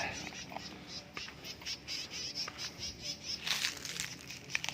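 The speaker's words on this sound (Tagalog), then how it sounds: "May ibon din pala dito. Mga ibon." Faint chirps and twitters of birds scattered through a steady hiss of insects and outdoor ambience, distant and soft.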